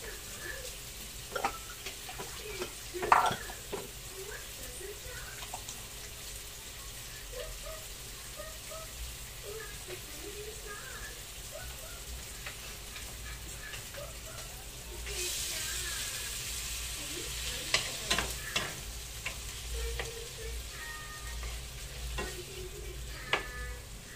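Potatoes and ground meat frying in a pan, a steady close sizzle with occasional stirring clatter, growing louder and brighter partway through as more goes into the hot pan.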